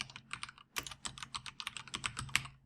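Rapid typing on a computer keyboard while entering a menu name in a program's form designer, a close, dense run of crisp key clicks with a few heavier strokes and no voices.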